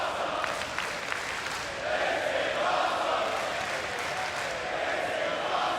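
TNA wrestling arena crowd at Bound for Glory during an X Division Championship match, a dense, sustained roar of cheering and clapping that swells slightly midway, heard alone without talk.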